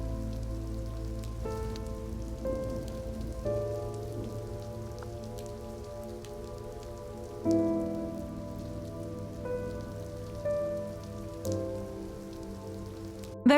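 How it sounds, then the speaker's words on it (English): Light drizzle patters steadily in the video game Aether Gazer, a soft continuous rain hiss layered with game music tones and no talking. "It's just a drizzle."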